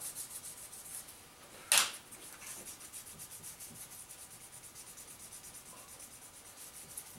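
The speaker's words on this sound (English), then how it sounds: "with the 600 grit starting to polish that off a little bit" Fine 600-grit sandpaper rubs softly on a guitar pickguard in short, faint, even strokes, with a single brief sharp scrape partway through.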